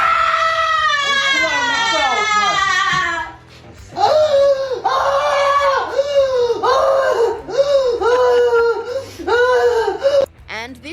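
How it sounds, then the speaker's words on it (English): A woman's high, wailing scream is drawn out for several seconds during an emotional meltdown after an election, then breaks into repeated rhythmic sobbing cries and whimpers. "This woman couldn't even muster words and just screamed during her meltdown."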